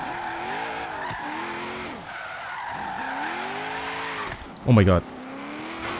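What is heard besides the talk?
car drifting with tire skids in Forza Horizon 3 video game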